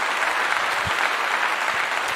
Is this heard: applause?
yes